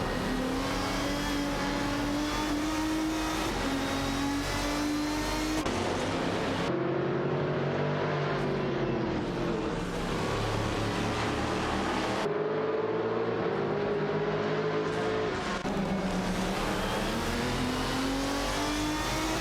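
Race car engines from a racing video game, including a Koenigsegg CCGT and an Aston Martin DBR9, roar and rev continuously with shifting pitch as cars pass, loud and steady, with no talk.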